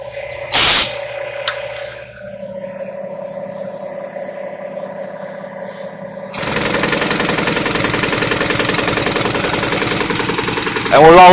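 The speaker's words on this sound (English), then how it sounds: "I'm going to put it in our paint shaker here. I'm going to tighten it down." A paint shaker rattles a clamped can side to side, a steady dense mechanical shaking that starts partway through after a quieter stretch with a brief burst near the start, continuing loudly to the end.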